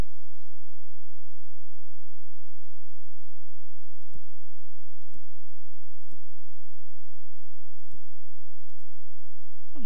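Computer mouse clicks while setting up a No-IP DNS service account online: about six sharp, faint single clicks spaced roughly a second apart over a low steady hum, with no talking.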